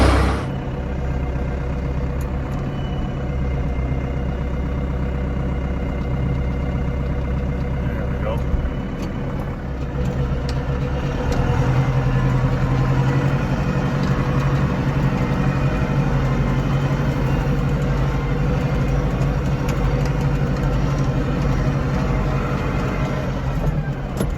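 A tractor engine runs at a steady, close idle with a deep low rumble that shifts pitch partway through, while someone talks over it intermittently.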